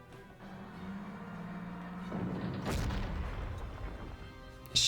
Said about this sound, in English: Let's get rid of this anti-tank cannon.